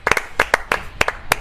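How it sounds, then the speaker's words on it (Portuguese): A few hands clapping in quick, uneven double and triple beats, crisp and close, with quiet gaps between bursts, on a Brazilian football commentary show. "salva de palmas"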